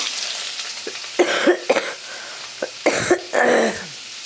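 Several short coughs and throat-clearing bursts come in irregular clusters, close and fairly loud, over a steady background hiss of frying in a home kitchen while fish curry with green banana is being cooked.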